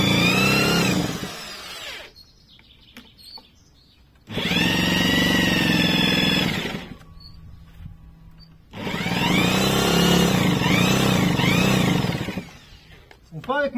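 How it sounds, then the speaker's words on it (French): A moped engine fitted with a Polini cylinder is started and left running in, giving loud, close, buzzing two-stroke bursts that rev up and fall away between quieter idle gaps, with revs rising and falling. "on la démarre, on la fait tourner"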